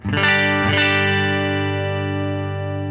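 A sustained electric guitar chord through a compressor pedal into a Fender Tone Master Pro, evenly compressed, struck twice early then left to sustain with a smooth, steady decay and no talking.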